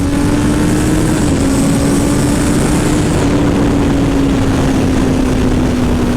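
A Kawasaki ZX14R motorcycle engine pulls hard in third gear up toward 7,000 RPM, a loud, steady droning roar with a slowly rising pitch that runs unbroken throughout.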